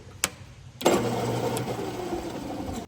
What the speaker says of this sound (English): this is how you engage the lathe